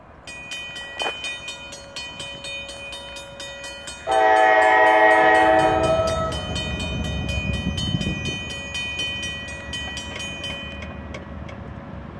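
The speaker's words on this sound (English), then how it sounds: "Coming up next is Norfolk Southern train 172." Norfolk Southern freight train 172 in Taylors, South Carolina sounds a loud, sustained horn blast, then rumbles past with a low, steady roll and rail clatter.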